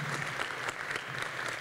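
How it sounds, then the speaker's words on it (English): Applause at an evening school board meeting honoring an elementary school, a dense, steady clapping from a crowd that carries evenly for the full stretch without voices rising above it. "And another round of applause for Borchers Elementary, a big cheer for them."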